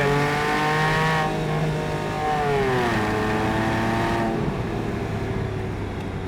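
A Porsche 911 997.1 Carrera 4S Tiptronic engine revs hard at about 5,500 RPM in second gear, a loud, steady, rising engine note with pitch sweeps, heard up close.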